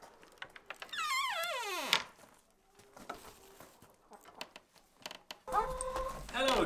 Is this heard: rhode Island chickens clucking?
yes